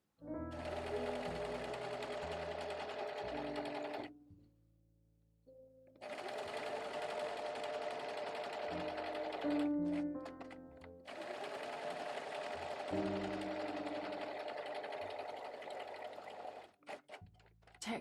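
A sewing machine stitches pin tucks on a chemise dress in three long runs of fast, steady whirring stitching, separated by short pauses with faint clicks, close and clear.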